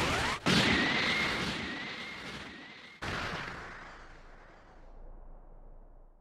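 A loud, roaring energy blast from the Special Beam Cannon attack in the video game Dragon Ball: Sparking! Zero surges with a whooshing rush, then a second blast hits and slowly fades into a rumbling tail.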